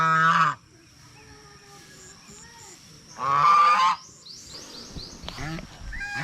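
A goose gives two loud, harsh honks a few seconds apart, with quieter bird calls and rustling in between.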